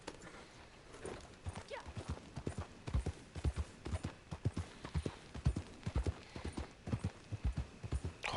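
Horse hooves clip-clop in Red Dead Redemption 2, a steady run of sharp, fairly close hoofbeats at a brisk trotting rhythm that carries on without a break.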